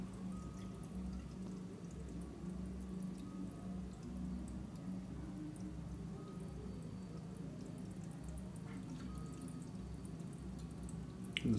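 Fabric softener poured into the water of a toilet cistern, giving a soft continuous trickling pour with small drips, fairly faint against a low background hum.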